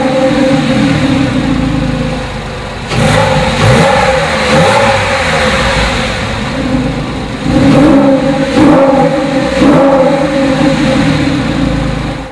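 A 2004 Porsche 911 Carrera 4S with sport exhaust starts and revs, giving loud, close engine sound with several rising revs and falling pauses over a steady idle and no talk.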